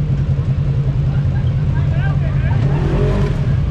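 Yamaha RMAX side-by-side engine revving steadily under throttle while working off-road, a loud continuous low drone close by, with a voice speaking over it.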